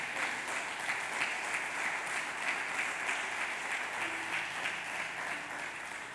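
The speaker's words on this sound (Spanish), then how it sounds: "Dele palmas" A church congregation claps during a Sunday Spanish-language teaching service, a continuous even patter of many hands, moderately distant, with a faint low tone entering partway through.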